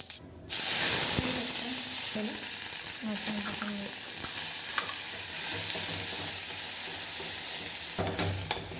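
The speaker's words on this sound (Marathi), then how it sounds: "तेल तापले जिरी मोहरी हिंग" Cumin, mustard seeds and hing sizzling in hot oil in a pan, a loud steady frying hiss that starts abruptly and carries on with stirring scrapes and clinks throughout.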